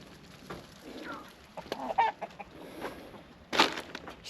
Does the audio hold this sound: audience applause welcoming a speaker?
no